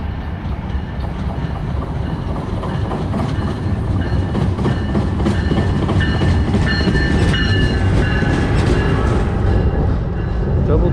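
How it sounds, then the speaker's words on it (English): A heavy double-decker diesel train arriving at a New Jersey station rumbles in close and loud, with clattering wheels, squealing brakes and a deep engine drone, voices faintly mixed underneath. "Double-decker train."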